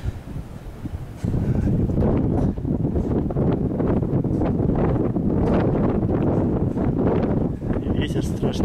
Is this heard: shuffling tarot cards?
no